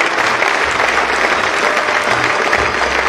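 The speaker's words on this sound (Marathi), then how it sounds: "जोरदार टाळ्या वाजवून या विद्यार्थ्याचे कौतुक करा." An audience at an annual academy prize distribution in Wai applauds the top-ranked student, a dense, steady wash of clapping from many hands, loud and sustained throughout.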